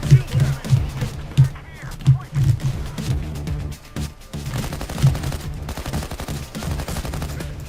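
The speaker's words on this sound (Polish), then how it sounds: "Ktoś mnie tu strzela z góry." Rapid bursts of gunfire in Payday 2, shots coming from above, crack in close succession over rumbling game noise while someone talks excitedly through the barrage.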